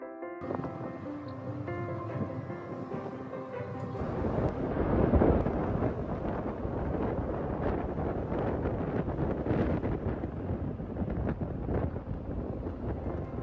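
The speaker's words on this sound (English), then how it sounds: "I don't think there's many better sail aways than the Lisbon sail away." Wind buffets the deck of the cruise ship Queen Anne as she sails away from Lisbon on her maiden voyage. A steady roaring rush swells after a short tonal passage at the start and carries on loud with no speech.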